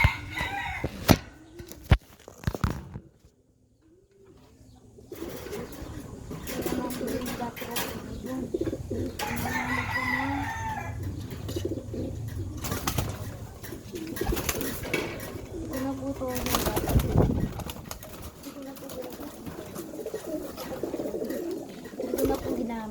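A pet pigeon kept for racing calls in a short series of coos and throaty notes, with the bird near and moderately loud, after a short silent gap and over background noise.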